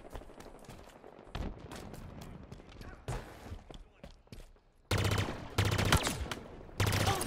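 Sharp bursts of Halo Infinite gunfire crack out in quick volleys over a busy background, the loudest rapid shots clustering toward the end.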